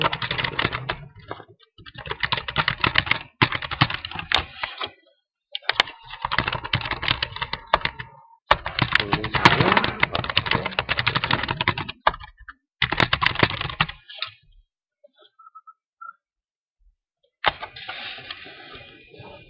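Keys clatter on a computer keyboard in quick, close bursts of typing, broken by several short pauses and one longer silence before the typing resumes.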